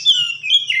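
An oriental magpie-robin gives a loud, close, clear whistled call: bright chirping notes in quick succession, alone without talk.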